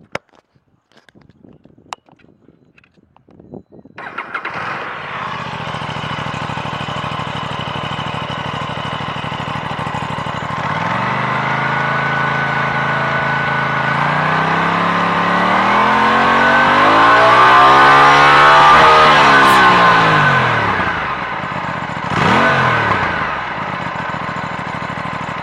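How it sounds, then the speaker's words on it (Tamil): An Aprilia Tuono 457 motorcycle starts with a few clicks, settles into a steady idle, then revs up in rising and falling sweeps through its exhaust, loud and close, with a final short blip before settling again. "இதோட எக்ஸாஸ்ட் நோட் நம்ம இப்போ கேட்போம்."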